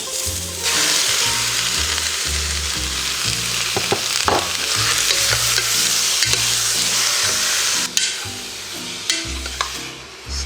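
Pork meat for a Filipino menudo landing in a hot pot, giving a loud, steady sizzle with bursts of stirring and scraping throughout, no voices.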